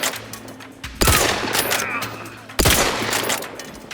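Gunfire from a gun in The Outer Worlds 2: two sharp, loud reports about a second and a half apart, each trailing into a ringing decay over a quiet game background.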